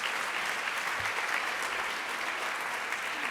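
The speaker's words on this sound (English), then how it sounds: "Please give them a big round of applause to all of them." An audience applauds art museum educators at a conference session, a steady, full round of clapping from a large crowd that holds evenly throughout.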